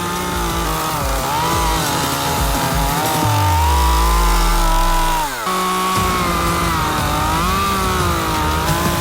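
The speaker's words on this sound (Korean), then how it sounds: "이번에는 전기톱을 이용해 썩은 부위를 제거하기 시작합니다" A chainsaw drones steadily at close range, its engine pitch dipping and rising as it cuts away rotten wood from a tree, running continuously without any talking.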